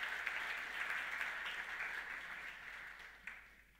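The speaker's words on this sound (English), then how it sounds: "let's have a massive round of applause, please, for Chris" Quiet audience applause for a volunteer at a business technology summit, a soft, even patter of many hands heard from a distance, gradually dying away.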